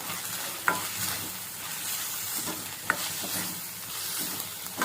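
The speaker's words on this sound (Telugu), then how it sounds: "ఆనియన్ బాగా ఫ్రై అయ్యాక కొంచెం పసుపు వేసుకోండి పసుపు వేసుకొని మంచిగా కలుపుకోండి" Onions frying with turmeric in a pan for Telangana-style okra, a steady sizzle with a few sharp utensil scrapes and clicks as the mix is stirred, close and continuous with no talking.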